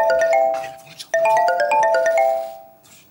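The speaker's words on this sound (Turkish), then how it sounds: "Telefonu çaldı." A mobile phone rings indoors during a Turkish comedy stage sketch, giving a bright repeating melodic tone that plays clearly for about two and a half seconds before fading, with no one talking over it.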